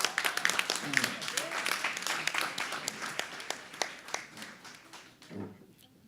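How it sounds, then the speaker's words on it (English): An audience at a town council meeting applauds, with many hands clapping in a brisk, uneven patter that is moderately loud up close, then thins out and fades near the end. "Let's give them a round of applause."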